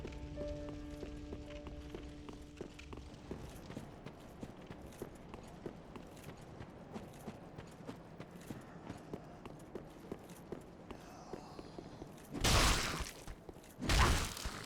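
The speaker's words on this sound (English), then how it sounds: "Horse hoof." Horse hooves clip-clopping in the video game Dark Souls 3, a steady run of light, evenly spaced hoof strikes across the scene, ending in two loud heavy impacts near the close.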